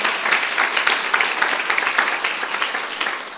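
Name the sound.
congregation clapping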